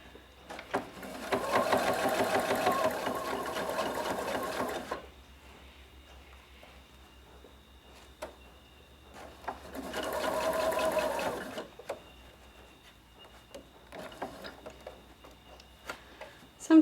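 A sewing machine stitches a zippered fabric pencil pouch in two steady whirring runs of about four and two seconds, with quiet pauses and faint handling noises between them.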